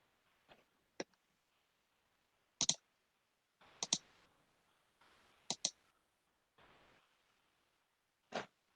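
Quiet, sharp mouse clicks sound close to the microphone, scattered irregularly as single and double clicks over near silence while sharing the screen.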